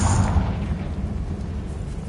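A Confringo fire spell blast in Hogwarts Legacy, one loud deep booming explosion at the start that rumbles and fades into a low, noisy tail.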